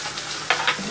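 Hot dogs frying in a pan and being moved around, a brief close sizzle with a couple of quick scraping bursts.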